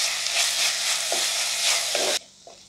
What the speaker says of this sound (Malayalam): സവാള ഇത് നല്ല സോഫ്റ്റായി വന്നിട്ടുണ്ട്. ഇനി കുറച്ചുകൂടി ഒന്ന് മൂത്ത് വരുന്നവരെ വഴറ്റിയെടുക്കണം.